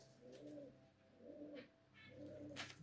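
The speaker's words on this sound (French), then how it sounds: "Vous l'entendez roucouler" A homing pigeon coos in soft, low, repeated phrases, three rounded calls at a steady rhythm, quiet and fairly close, with faint background noise and no talking.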